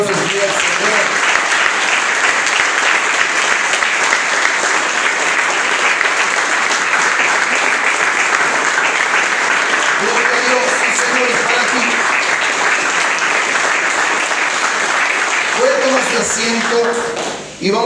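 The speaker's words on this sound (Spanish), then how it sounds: "Denle un aplauso al Señor." Church congregation at a Spanish-language service applauding loudly and continuously for nearly eighteen seconds, dense clapping close by, with voices rising over it in places before it cuts off at the end.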